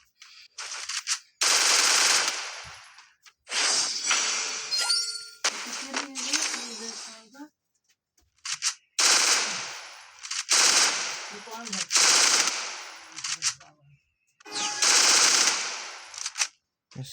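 Bursts of rapid automatic gunfire from the Free Fire video game come in several loud volleys separated by short pauses, with metallic dings and clangs mixed in.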